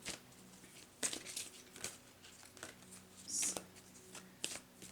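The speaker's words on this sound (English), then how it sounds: "I shuffle until a card flies out" Tarot cards being shuffled by hand, heard as soft, faint papery riffles and scattered crisp flicks in a quiet room, with a slightly louder rustling burst near the end.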